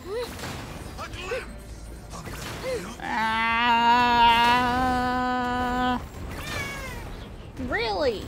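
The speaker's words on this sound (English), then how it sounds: "My cat distracted me." A pet cat meowing near the microphone, one long drawn-out wailing meow in the middle with shorter meows before and after, loud and clear, with a person talking around it.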